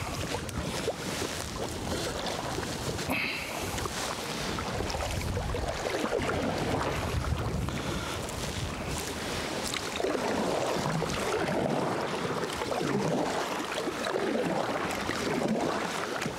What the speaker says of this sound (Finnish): Päästään vastatuuleen sitten taas melomaan.